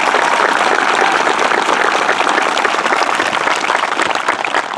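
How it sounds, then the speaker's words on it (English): Sustained, even applause from a large audience at a school graduation ceremony, broad and full throughout with no voices over it. "Let's give them a round of applause."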